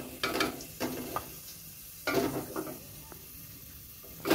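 Sliced onions frying in oil in a pan, with a soft background sizzle broken by several loud scraping strokes of a spatula, close by and irregular.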